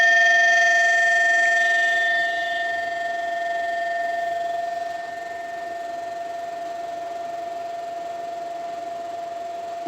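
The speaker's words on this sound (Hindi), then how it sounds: "आई थिंक ये वो वाली साउंड है जो मंदिरों में जो घंटियाँ बजती है ना, वो वाली साउंड है ये।" Struck titanium metal rings out like a temple bell, a sustained pure tone with bright overtones that hums on steadily and slowly fades, heard alone without voices.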